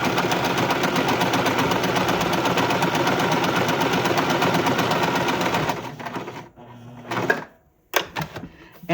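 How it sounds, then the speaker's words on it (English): A sewing machine stitches along marked lines on fabric for a rustic primitive snowman, running as a steady, dense whirr for about six seconds, then stopping and starting in short bursts with brief pauses. "I'm going to sew right on the lines."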